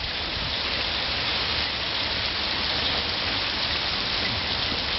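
Hail pelts down steadily outdoors, a dense, even patter of ice striking surfaces that stays loud and unbroken throughout, with no voices.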